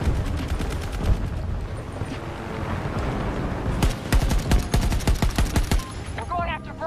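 An AK-24 rifle fires in Battlefield 2042 in rapid automatic bursts, loud and close, with sharper clustered volleys near the end.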